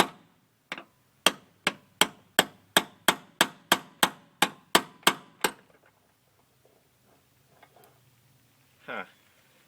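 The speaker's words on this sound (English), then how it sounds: "I'm going to try to pop it out with a ball peen and a punch." A ball peen hammer strikes a punch to drive out a Chevy Silverado door hinge pin, about fourteen sharp metallic blows in a steady rhythm, then quiet apart from a brief faint sound near the end.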